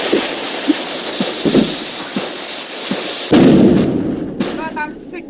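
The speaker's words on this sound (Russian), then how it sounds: "Петарду забирай, щоб взорвати." Several sharp firecracker pops crack in quick succession in a Roblox game, followed by a louder, fuller burst with a rumbling tail, under lively game audio.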